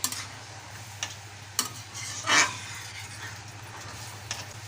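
Spices sizzling while tempering a pea dal with drumsticks, a soft continuous hiss with scattered ticks and one brief louder spluttering burst midway.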